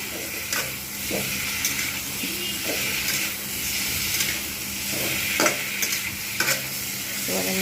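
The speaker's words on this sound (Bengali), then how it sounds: "বেশ কিছুক্ষণ আমি নাড়িয়ে নিচ্ছি" Vegetables for a Bengali rohu fish curry sizzle steadily in a pan while a spatula scrapes and stirs them in repeated strokes, close and fairly loud, with no talking.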